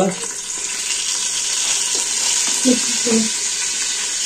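Lentils and bay leaf frying in a pot for bhuna khichuri give off a steady, close hiss, with a few soft clinks and scrapes of a utensil near the end.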